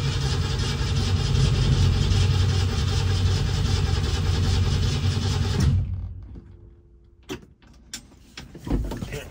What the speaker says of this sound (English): Full throttle, cranking over.